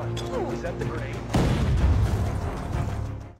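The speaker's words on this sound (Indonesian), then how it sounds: "Parker mengambil granat yang biasa digunakan Hari untuk penggalian tanah, lalu meledakkannya tak jauh dari lokasi tambang" A grenade detonates near a mine in a film: a sudden broadband boom hits partway through, followed by a rumbling roar that slowly fades, all beneath a narrator's continuous voice.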